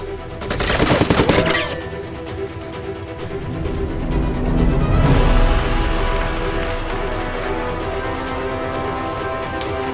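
Rifle fire in a Republican-era Chinese action film erupts in a loud, dense burst of shots near the start, followed by a rumbling, echoing aftermath.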